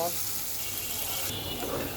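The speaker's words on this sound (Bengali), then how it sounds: "পেঁয়াজটাকেও আমি সুন্দর করে মিনিট কিছুক্ষণ ভেজে নেব" Onion frying in a pan for vegetable noodles, a steady close hiss of sizzling oil that runs without a break for the whole span.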